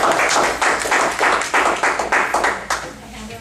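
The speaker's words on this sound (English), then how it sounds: "Give her an applause" A small club meeting audience claps after a table topics speaker, a brisk burst of clapping with uneven rhythm that thins toward the end, close and fairly loud.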